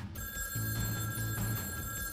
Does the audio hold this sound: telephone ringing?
yes